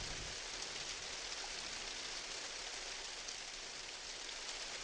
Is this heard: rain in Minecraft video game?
yes